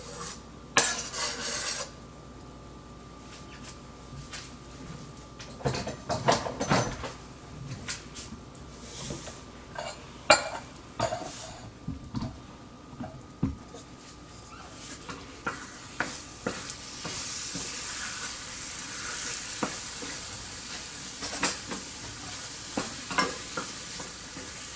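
Chopped tomatoes hit a hot pan for a WW2-era mock crab made from rations, hissing steadily as a spoon scrapes and stirs them in repeated bursts, close and fairly loud.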